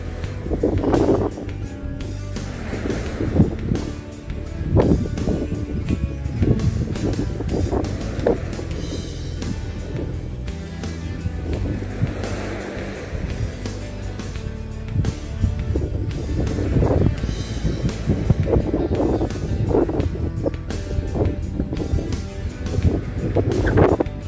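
Evening wind and waves at a seaside beach facing Pattaya, beside a waterfront restaurant: a steady, loud rush of wind buffeting the microphone over a low, rolling wash of surf, with no talking.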